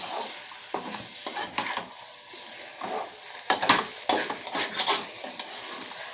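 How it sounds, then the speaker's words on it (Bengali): Potato, tomato and poppy seed mixture for aloo posto being stirred in a pan after salt goes in, with repeated scraping strokes over a steady sizzle of frying, close and fairly loud, no talk. "লবণটা দিয়ে আবার একটু নাড়াচাড়া করে নেব।"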